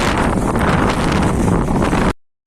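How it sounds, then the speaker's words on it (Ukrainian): Loud, roaring wind on a steep hillside slope buffeting the microphone in a constant rumbling blast, then cutting off abruptly. "Вітер мене просто збиває."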